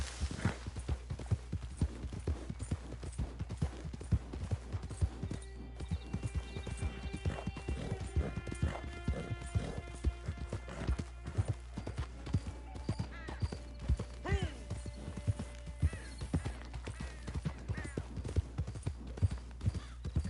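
A horse in the video game Red Dead Redemption 2 gallops in a steady, quick clip-clop of hooves that runs throughout, with a neigh and brief game sounds layered over the rhythm.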